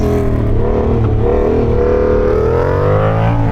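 Motorcycle engine held at a steady high drone during a wheelie trick, rising slightly in pitch toward the end, loud and close with no voices.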